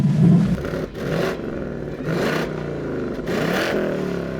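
A 2024 Ford Mustang GT's Coyote engine revs hard with a throaty exhaust roar, surging and easing in repeated pulses, loud and close.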